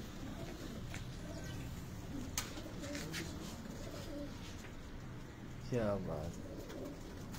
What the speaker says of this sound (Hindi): कैसे लगे कबूतर आपको?